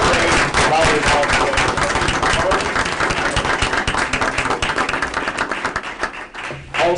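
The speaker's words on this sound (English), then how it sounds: "A big round of applause for your very Gatorade volleyball" Loud, dense clapping from a crowd greeting a volleyball player rolls on for several seconds, with voices beneath it before it thins out.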